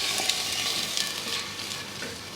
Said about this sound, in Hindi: दाल हम इसमें शामिल करेंगे अपनी। थोड़ा सा इसको भूनेंगे।